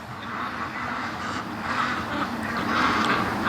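Ducks being raised for charity quack faintly amid outdoor background noise, a scattered, distant murmur of calls with no talk.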